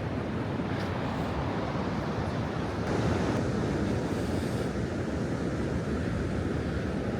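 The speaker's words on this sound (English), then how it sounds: "the waves do look quite dramatic" Sea waves break steadily on a beach at Scarborough's North Bay, a continuous loud roar of surf mixed with gusty wind buffeting the microphone, with no voices.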